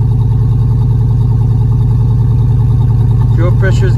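A cold turbocharged project car engine idles at a steady, fairly high speed, loud and close with an even throbbing rhythm throughout, and someone talks briefly over it near the end.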